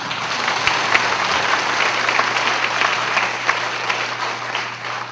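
Congregation at a church denomination's evening service for ministers' summer seminar claps steadily for about five seconds, a dense continuous wash of applause with no speech over it.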